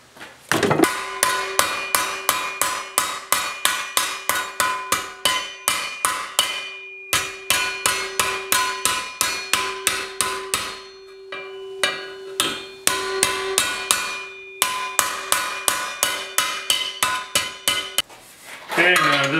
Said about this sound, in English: Gotta go find a hammer.